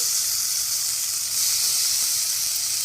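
Chopped tomatoes hit a pan of nearly cooked curry masala for dhaba-style chicken curry, giving a steady, close, bright sizzle and hiss that continues alone with no talking.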